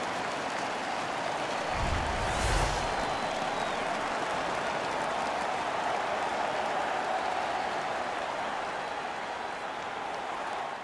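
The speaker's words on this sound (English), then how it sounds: "Their man's won the fight. The crowd is ecstatic." Crowd noise swells in an arena after a hockey fight in the NHL 15 video game, a broad steady roar that holds loud and unbroken throughout.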